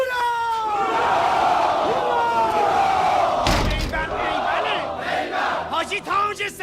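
A group lets out a loud, sustained hurray for a toast in a feature film scene, many voices shouting together close by, with a brief burst of noise midway and the cheer trailing off into scattered calls.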